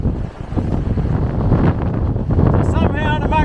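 Strong gusting wind buffets the microphone during a fly fishing drift, a loud continuous rumbling roar with a voice briefly audible near the end.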